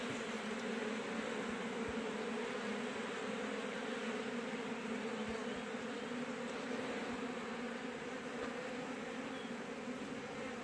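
Dense, steady buzzing of many honeybees swarming close by at a four-compartment hive, a continuous droning hum without pause.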